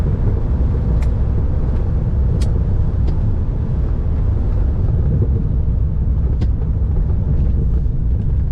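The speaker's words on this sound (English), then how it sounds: "Great sounding exhaust. This is the stock muffler." A 1996 Dodge Viper RT/10's stock exhaust rumbles steadily up close, a loud continuous low drone with a few faint clicks over it.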